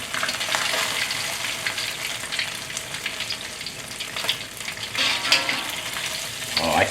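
Cheese crab rangoon fry in hot oil, giving a dense, steady crackling sizzle that fills the whole stretch with bursts of sharper popping, close and fairly loud, without speech.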